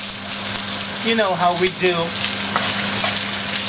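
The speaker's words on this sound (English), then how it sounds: "you're gonna add the onion rings and the chili peppers. And you're gonna give it a nice stir." Onion rings and chili peppers fry with a steady, close sizzle in a pan with garlic while being stirred, and someone speaks briefly over the cooking.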